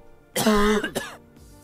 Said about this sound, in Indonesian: Nah, itu tadi adalah suara untuk batuk kering.